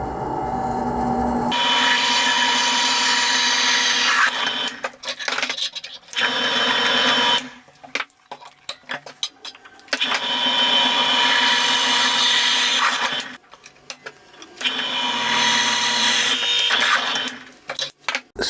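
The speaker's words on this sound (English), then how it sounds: "I'm going to do 3 pilot holes" A drill bit whirs in several sustained bursts separated by pauses and small clicks, close and loud, boring three pilot holes one after another with cutting fluid in a snowblower auger flange.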